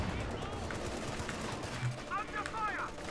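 Anti-tank gun fire in a World War II strategy game, a dense rumble of battle gunfire and shots under steady commentary.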